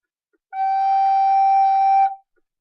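One high G held on a recorder for roughly a second and a half, a pure, steady whistle-like note that starts and ends cleanly.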